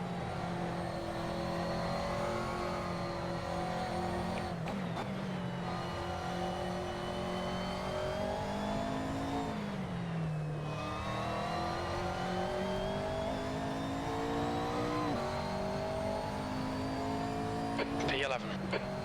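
Race car engine in a sim racing game, droning steadily through a lap, with pitch climbing and dropping through gear changes and braking, while someone talks over it throughout.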